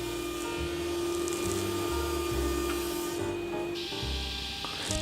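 A thickness planer whirs steadily while feeding a Huon pine board, a loud constant machine drone with shifting rumbling cut noise as the board passes through.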